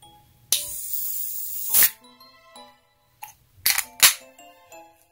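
A can of Coca-Cola coffee vanilla cracked open up close, a sharp pop followed by a steady hiss of escaping gas, then further clicks and fizzy bursts as the carbonation settles, with no talking.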